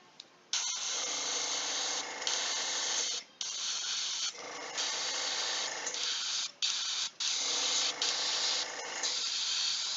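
An airbrush sprays paint onto a miniature in long hissing bursts, three main runs broken by short pauses and brief stutters, close and fairly loud with no talking.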